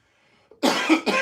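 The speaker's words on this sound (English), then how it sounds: "I'm coughing" A single person coughs sharply a couple of times up close, with brief quiet before the first rough burst.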